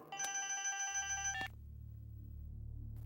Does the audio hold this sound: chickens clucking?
no